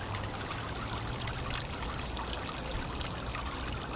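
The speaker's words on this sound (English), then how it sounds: "You can see how beautiful the fountain is." A backyard pond fountain at night, lit by an LED shining upward, gives off a steady, dense splash and trickle of falling water, continuous and close with no pauses.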